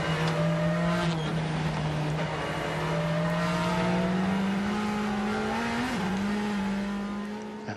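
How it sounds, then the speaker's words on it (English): A WTCC touring car at Japan's qualifying session drones steadily at a sustained engine pitch, easing off the throttle briefly then climbing again with faint wheelspin, loud and continuous with no talk. "you can hear the drivers having to get off the throttle and just wait for the wheels to stop spinning before they can really give it all the juice"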